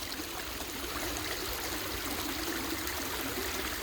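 Flowing stream water rushing steadily, a constant broadband babble and splash close by with no voices or other sounds.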